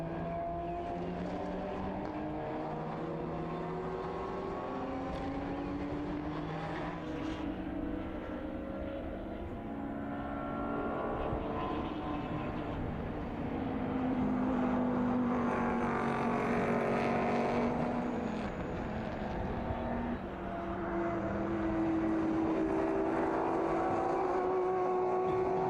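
Historic race cars, including a grey Audi TT and a Porsche, roar past at the Red Bull Ring during a Histo Cup race, engines droning and shifting pitch continuously as they pass nearby.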